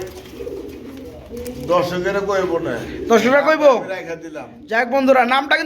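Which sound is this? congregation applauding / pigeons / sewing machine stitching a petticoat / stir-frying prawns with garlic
pigeons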